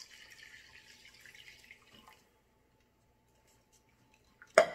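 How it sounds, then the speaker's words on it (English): Water pours into a cooking pot for about two seconds, a soft splashing fill that cuts off, followed by quiet and a sudden clatter at the end. "Then we're gonna add 2 cups of water."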